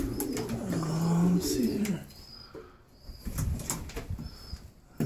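Pigeons in a loft making low, throaty coos close by, with some wing flapping, while someone speaks briefly over them.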